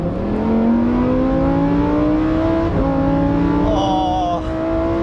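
A Lamborghini Huracan STO's engine revs loudly and steadily from inside the cabin, pitch climbing smoothly through a gear with a brief dip at a shift before rising again.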